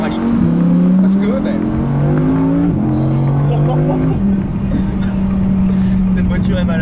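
An Audi R8 V10 Performance supercar on small country roads, its engine loud and close as it revs hard and climbs through several quick gear changes with a continuous roar.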